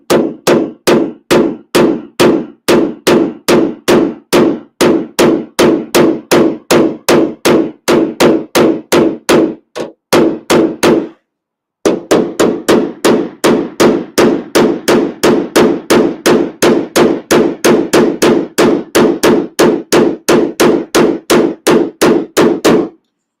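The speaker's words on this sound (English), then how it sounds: "when you're doing a hammer like this" Rapid, steady hammer taps knock down a dent in the steel bedside of a Ram 1500 pickup during paintless dent repair, dozens of sharp metallic clinks in quick rhythm with one brief pause midway.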